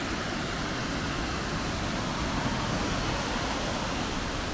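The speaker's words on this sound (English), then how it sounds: "Let's have a look at the first waterfall." Steady, loud broadband rush of a waterfall in Caverna do Diabo park, Brazil, a continuous roar of falling water with no breaks, no voices heard.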